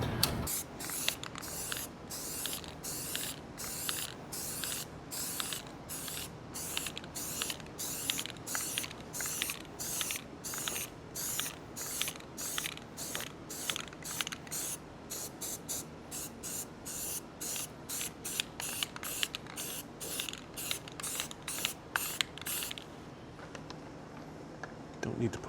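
Aerosol spray paint going onto a guitar body as a first coat, in many short, evenly spaced hissing bursts that continue steadily for over twenty seconds, close and fairly quiet.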